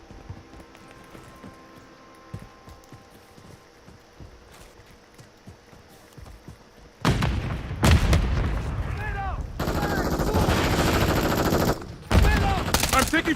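Gunfire rattles through a video game battle, starting as faint scattered shots and turning into loud, dense bursts of automatic fire and explosions in the second half, with a voice speaking briefly.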